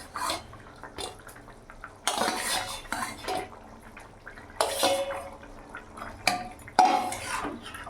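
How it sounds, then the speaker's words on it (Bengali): Fried rohu fish pieces go into a pan of boiled potato curry with clinks and scrapes of a metal spoon against the pan, plus soft wet stirring sounds in short bursts and no talking. "এবার ভেজে রাখা মাছগুলো আমি দিয়ে দেবো।"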